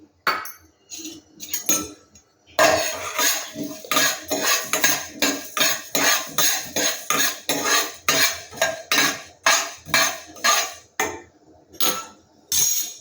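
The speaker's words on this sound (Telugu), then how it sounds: "బాండీ పెట్టుకొని జీలకర్ర ధనియాలు వేపుకుందాం" Cumin and coriander seeds dry roasted in a kadai: a brisk, regular metallic scraping and clinking of a spoon against the pan, repeated in quick strokes, with a sharp rattle of the seeds, no talk.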